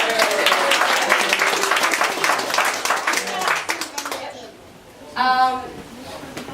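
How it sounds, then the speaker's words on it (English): Guests at a 70th birthday party clap and cheer in a lively burst that fades after a few seconds, then a voice speaks alone over the quiet room. "I just want to round of applause to Adrian"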